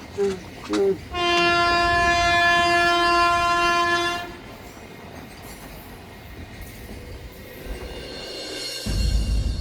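A loud train horn blares for a few seconds over rumbling wheels, then the rattle of passing carriages fades to a steady background roar.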